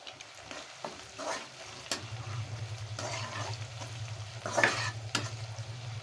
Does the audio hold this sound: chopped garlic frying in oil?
yes